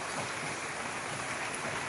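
Rain in a storm: a faint, steady hiss of falling rain, even and continuous with no distinct drops or thunder standing out.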